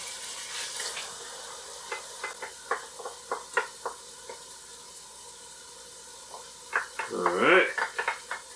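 Tomatoes tipped into a sizzling Tex-Mex lasagna meat sauce in a pan, with a soft sizzle under a string of clinking, scraping stirs and a louder burst of splatter near the end; a voice speaks briefly at the start.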